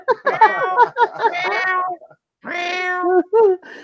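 A sound effect of several cats meowing loudly in quick overlapping cries, a short pause, then one long drawn-out meow and a couple of shorter calls close up.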